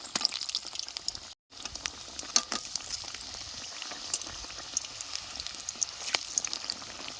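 Cabbage boat-shaped fritters fry in a wok over low flame, a continuous crackling sizzle with scattered pops and spatters, close and steady, with a brief dropout partway through.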